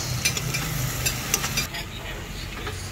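Vegetables frying in a pan while being stirred, a steady sizzle broken by several sharp scraping clicks of the utensil, close and fairly loud.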